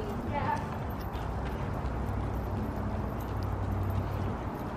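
Steady, rhythmic clip-clop of a ridden horse's hooves, close by and continuous, with people talking over the footfalls.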